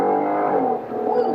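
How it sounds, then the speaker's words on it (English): The engine of a first-generation Ford Raptor pickup truck revs on a test drive, a loud, dense, sustained roar that dips briefly and then swells again. "Ooh, see? Listen to that pickup."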